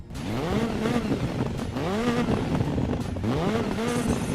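A racing car engine in the video game Dirt 5 roars loudly and continuously, revving up in repeated rising sweeps with gear shifts, a close, gritty game-style engine sound.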